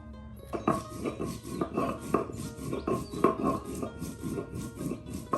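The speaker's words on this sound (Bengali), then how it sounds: "এই যে এখন জিরা বাটা হবে।" Cumin being ground into paste on a grinding stone in a village kitchen, a close, rhythmic rasping and rubbing of stone on stone, repeated strokes about every half second, with no talking.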